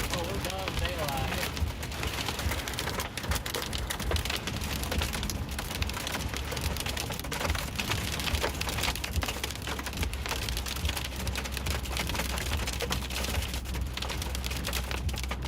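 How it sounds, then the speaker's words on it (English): Hail and heavy rain batter a surface continuously during a tornado storm near Haskell, Texas, a dense steady patter with low rumbling underneath and a voice talking over it. "Got lots of hail falling."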